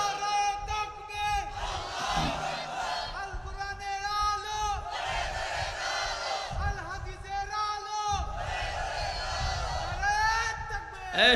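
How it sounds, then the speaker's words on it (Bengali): A large crowd at a religious gathering chants takbir in loud, repeated unison shouts, with each roaring swell rising and breaking off in rhythmic waves, close and energetic. "এটা তাকবীর দাও জোরে, আরো জোরে"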